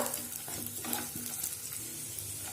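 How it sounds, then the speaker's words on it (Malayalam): Cashews and raisins sautéed in a pan, likely in ghee, for Malabar unnakaya, a brief close sizzle with quick stirring scrapes and a few light clinks. "ഇനി ഇതിലേക്ക് ഒരു 15 ഉണക്കമുന്തിരി കൂടെ ചേർത്ത് കൊടുക്കാം. ഇതും ചേർത്തിട്ട് നന്നായിട്ടൊന്ന് വഴറ്റി കൊടുക്കുക."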